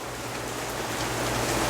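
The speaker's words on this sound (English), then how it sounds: "we keep getting more and more rain" Heavy storm rain pouring down steadily at a theme park, a dense even hiss that stays loud and slightly builds, with no voices.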